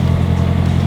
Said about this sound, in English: that's the clutch throwout bearing is making a little bit of noise because it's been sitting for a while